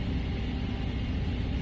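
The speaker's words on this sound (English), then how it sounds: "it's my fan upstairs. It's making a lot of noise." A household fan running upstairs gives a steady, loud low rumble and broadband whir that holds unchanged throughout, with no speech over it.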